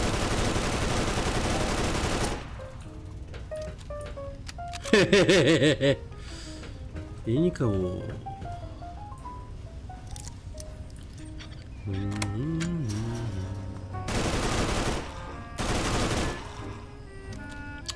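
Bursts of automatic rifle fire in Fallout 3 come in several loud, dense volleys between stretches of game music, and someone speaks briefly between them.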